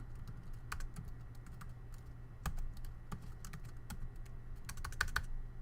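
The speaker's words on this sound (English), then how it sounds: "Just so you see me typing it out" Rapid clicking of keys on a computer keyboard, close and quiet, in irregular bursts with short pauses over a faint low hum.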